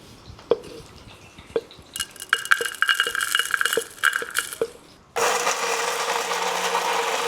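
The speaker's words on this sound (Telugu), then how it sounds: "మిక్సీ పట్టుకుందాం మనం." After several knocks and clatters as a kitchen mixer grinder jar is loaded with cumin, mustard seeds, ginger, garlic and green chillies, the motor starts with a loud, steady, close whir.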